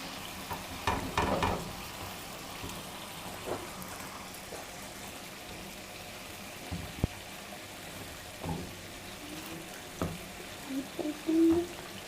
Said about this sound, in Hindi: थोड़ा सा ऑयल डालेंगे, पैन ब्रेड को गरम करेंगे